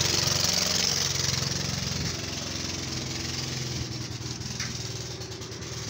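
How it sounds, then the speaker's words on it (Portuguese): Small motor running steadily while water is unloaded by hose into a cistern, a close continuous rattling engine drone with a low rumble and no speech over it. "Motor ligado aí, ó."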